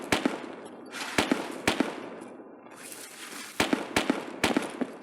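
Gunfire in the video game Escape from Tarkov: sharp bursts of shots arrive in irregular clusters, loud and close, with quieter gaps between volleys.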